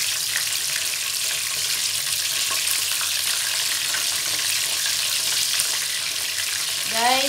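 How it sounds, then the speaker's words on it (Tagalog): Chicken pieces frying Jollibee-style in hot oil, a dense steady sizzle throughout, with a brief stir or movement near the end. "ang pagluluto ng fried chicken"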